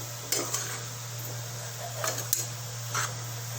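Spoon scraping and clinking in a pan of Malvani-style mushroom masala, with a few distinct metallic knocks over a steady low hum. The taps are sparse and moderately close, and there is no talk.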